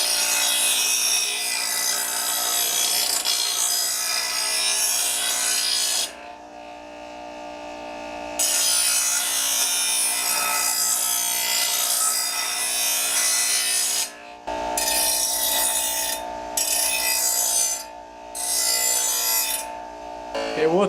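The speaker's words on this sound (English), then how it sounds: "we'll let the bench grinder wind down just a little bit" Bench grinder sharpening a riding lawn mower blade, a loud steady grinding rasp with several brief pauses as the blade is lifted off the wheel, close and alone without talk.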